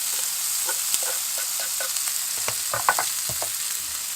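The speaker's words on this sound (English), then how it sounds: "And then let them fry for pop and sizzle." Spices frying in hot oil in a pan on a narrowboat galley stove, a continuous close sizzle with scattered small pops and crackles through the clip, no talk.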